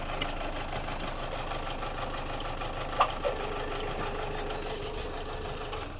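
A car engine with a firing fault idles with the bonnet open, a steady close mechanical hum and rattle heard alone, broken by a couple of sharp clicks midway.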